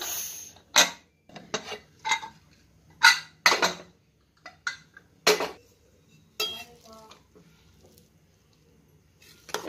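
A pressure cooker holding biryani is opened after cooking, with a series of sharp metallic clanks and clinks of lid and pot, separated by short quiet gaps.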